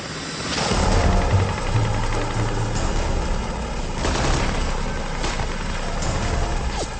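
Gunfire during a night helicopter rescue on a mountainside among Taliban fighters, with bursts and scattered shots over a dense, rumbling background of helicopter engine noise. Loud and continuous, with no voices.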